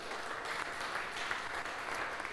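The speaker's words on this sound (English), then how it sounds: "Let's give him a round of applause." An audience claps in steady, even applause at a live coffee event, thanking a barista who brewed the morning's coffees; a short, moderately loud burst with no voices.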